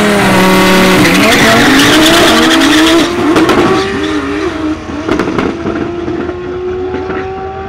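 A twin-turbo V10 Lamborghini Huracán with a short exhaust roars loudly at a dragstrip, its engine note rising and falling through gear changes, with a squeal of tyres.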